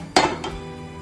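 A cooking pan is set down on a kitchen stovetop to start lemon rice, giving one sharp metallic clank followed by a fainter knock, with no talking.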